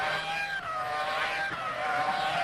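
Formula 1 cars race at Zeltweg, Austria in 2002, engines screaming at high pitch as a Renault passes a Minardi, a continuous dense roar with shifting tones and no voices.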